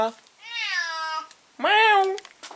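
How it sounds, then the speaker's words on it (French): Two drawn-out cat meows, the first long and rising, the second shorter and louder, close by with a brief pause between them. "Miaou."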